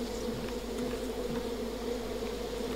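Steady, continuous buzzing of bees in the Far Cry 5 video game, a low droning hum that holds evenly throughout at moderate level with no talk over it.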